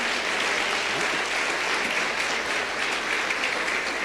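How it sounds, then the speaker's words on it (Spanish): A church congregation claps continuously during a worship service, a dense, even wash of applause held at steady volume throughout. "dale una ofrenda de palmas al Espíritu Santo"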